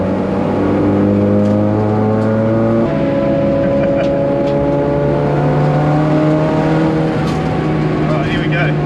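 A race car engine pulls hard along a straight, loud and close, its pitch climbing steadily before a brief gear change and another sustained rising drone with whirring road noise.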